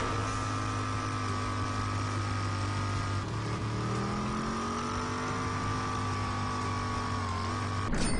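A car engine drones steadily while driving in the post-apocalyptic shooter Rage, a constant mid-pitched hum with harmonic tones that dip and shift slightly as the vehicle cruises along at an easy pace, with no talking.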